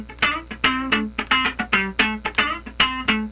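Funk rhythm guitar plays a one-bar straight-feel pattern that repeats, with crisp muted chord stabs and percussive scratches in a tight, fast rhythm, close and alone.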